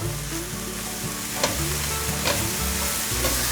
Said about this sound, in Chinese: 现在放入鲜香菇， 把鲜香菇炒软炒香